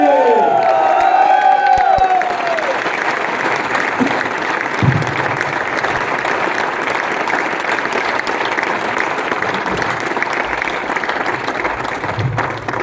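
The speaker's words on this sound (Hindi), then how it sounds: "कि सबसे जबरदस्त तालियों के बीच में हम माइक्रोफोन देने जा रहे हैं" A crowd at a success celebration bursts into loud applause and cheering, with a brief rising whoop at the start, then a sustained roar of clapping that carries on evenly for over ten seconds.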